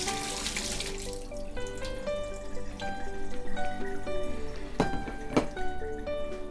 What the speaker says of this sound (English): you're going to want to drain the water